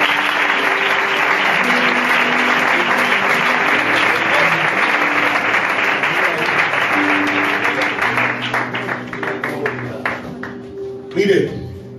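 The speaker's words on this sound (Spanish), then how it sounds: "Recibimos la palabra con un fuerte aplauso." A church congregation breaks into strong applause, many hands clapping densely and evenly, then thinning toward the end before a voice returns, with music or talk faintly underneath.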